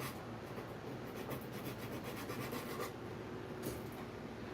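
Steady rhythmic rasping of sandpaper scrubbing against a small wooden box, close and even, with quick back-and-forth strokes and no talking.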